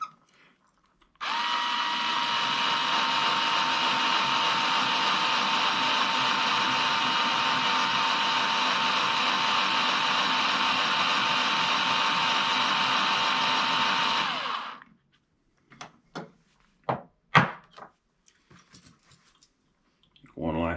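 A case trimmer whirs steadily and loudly for about fourteen seconds as it trims new rifle brass cases, then stops, followed by a scatter of sharp metallic clicks and taps as the brass is handled.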